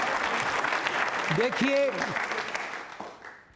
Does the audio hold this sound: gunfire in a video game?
no